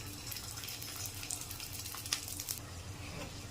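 A paratha frying in oil in a pan gives off a soft, steady sizzle and hiss, faint throughout with a few small crackles.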